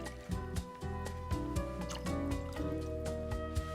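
Two ounces of Westland whiskey being poured at home for a cocktail, a soft, brief liquid trickle and drip, quiet and up close, with faint tonal sound behind it.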